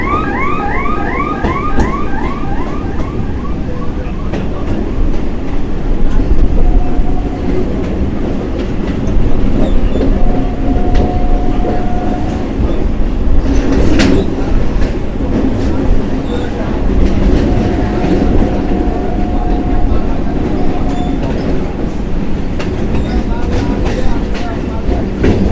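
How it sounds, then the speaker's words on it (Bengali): A suburban train in Kolkata rolls along the tracks toward Bagbazar while rounding a curve, with a continuous loud rumble, rhythmic wheel clatter, and intermittent high squeals from the wheels on the bend. "তালা থেকে বাগবাজারের পথে ট্রেন কিন্তু একটা সুন্দর কার্ভ নেবে।"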